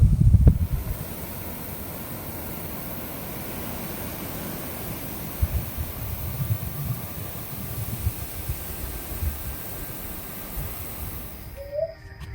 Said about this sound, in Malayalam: കുന്നിൻ മുകളിൽ നല്ല കാറ്റ്